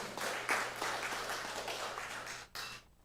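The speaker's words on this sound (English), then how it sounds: "We again applaud and congratulate all the participants" Audience applause at the 2024 Annual Emancipation Lecture, a dense, steady wash of many hands clapping that holds for about two and a half seconds and then thins out and fades.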